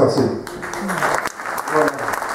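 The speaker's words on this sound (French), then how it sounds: "je les applaudis bien fort" An audience applauds at a ceremony presenting a town medal, the clapping moderately loud and mixed with voices for a couple of seconds.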